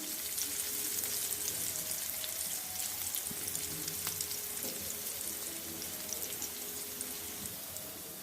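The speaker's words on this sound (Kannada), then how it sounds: "ಅದನ್ನು ಹಾಕಿ ಚೆನ್ನಾಗಿ ಉರಿಬೇಕು, ಹಸಿ ವಾಸನೆ ಹೋಗೋವರೆಗೂ" Fenugreek and green chillies crackling in hot oil in a pan, a fairly soft, even sizzle with light pops and faint stirring, alone without talk.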